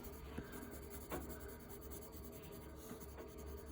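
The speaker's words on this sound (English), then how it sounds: "carefully using the side of my pencil" Graphite pencil shading on drawing paper with the side of the lead while rendering a nose, a steady soft scratchy rubbing that runs continuously with a couple of firmer strokes, close and fairly quiet.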